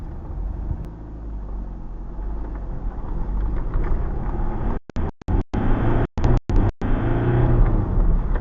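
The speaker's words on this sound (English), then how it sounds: "the traffic, the speed it comes around that corner is just frightening" Road traffic speeds around a corner past a parked Ford Transit Custom van: a loud, rumbling engine roar that builds steadily, with the sound briefly cutting out several times.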